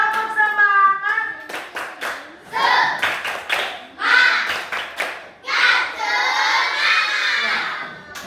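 Children in a classroom coding lesson clap a rhythmic patterned cheer in unison, loud and close, with bursts of shouting and chanting voices between the clap sequences.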